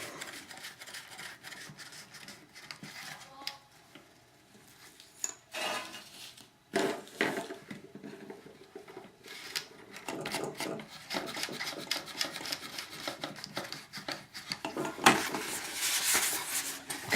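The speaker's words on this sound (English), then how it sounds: "stick these 2 bolts through and put the plastic nuts on and snug them up" Plastic nuts being threaded onto two bolts and snugged up while assembling a rotor mast, close scraping, rubbing and clicking handling noises in irregular bursts, with a louder rasping stretch near the end and no talking.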